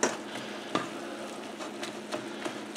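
Ground meat for a taco pie browns in a skillet with a soft, steady sizzle, broken by a few sharper scrapes and taps of a utensil breaking up the meat; no talking.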